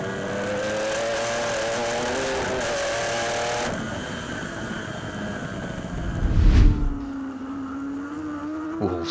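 A Hager PBM Ducati superbike at race pace at Knockhill, heard from onboard, its engine a loud steady howl that shifts pitch through gear changes, with a brief rough burst around the braking.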